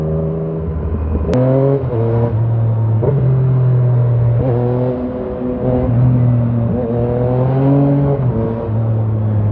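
A 2016 Yamaha MT-09 motorcycle accelerates hard and loud nearby, its engine note climbing repeatedly through a series of gear changes.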